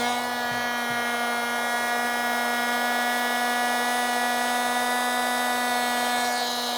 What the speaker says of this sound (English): Cat vacuum versus small glitter.